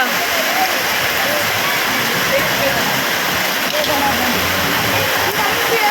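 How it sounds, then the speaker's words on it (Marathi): Heavy, steady downpour during an outdoor rangoli competition, with a continuous loud hiss that never lets up for the whole stretch. "आता पाऊस आला आहे"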